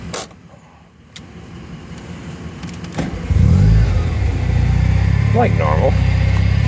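Supercharged rotary engine in a Karmann Ghia ProTour car fires up with a rising roar and settles into a loud, steady, lumpy idle close by, after a quiet stretch with a person speaking briefly over it.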